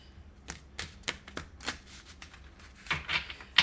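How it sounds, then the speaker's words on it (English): A deck of cards is shuffled close by in a quiet room, giving a string of short papery riffles and flutters that end in a louder burst of snaps. "I'm going to shuffle them one more time"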